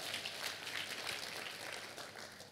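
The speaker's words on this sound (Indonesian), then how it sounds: "Kita kasih tepuk tangan yang meriah buat Tuhan kita" A church congregation applauds during an Indonesian sermon, a dense, steady wash of many hands clapping together at moderate volume, with no voices over it.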